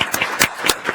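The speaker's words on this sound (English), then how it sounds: "let's round of applause for all three of those groups" A conference audience applauds in a brief burst of clapping. Distinct claps come through in an irregular rhythm, close and moderately loud, for about a second.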